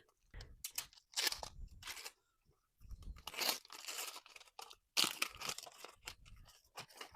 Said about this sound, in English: So let's kind of unwrap this out of its casing.